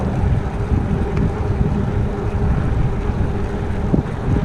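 Steady wind rushes and buffets the microphone while riding a bicycle, a loud, continuous roar with no voices.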